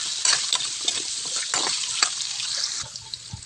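Diced potatoes or carrots fry in oil in a pan, giving a soft, steady sizzle with scattered crackles and pops, heard up close without talk.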